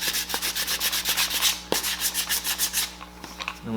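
Rapid back-and-forth sanding strokes scratch crisscross marks into a foam axe prop, a steady rhythmic rasp of about four strokes a second with a few sharp taps, close and alone.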